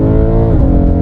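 BMW E92 M3 fitted with a Remus back box and Evolve X-Pipe, driving on the road with a loud, close, droning engine and exhaust tone whose pitch shifts slightly midway.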